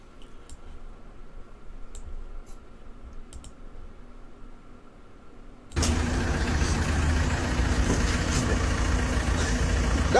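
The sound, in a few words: car engine running with blocked exhaust pipe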